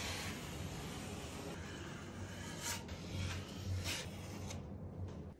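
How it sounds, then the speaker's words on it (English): A drywall knife spreads drywall compound over a vinyl corner bead with continuous scraping and rubbing strokes, close and fairly loud. "Now I'll go in with some drywall compound,"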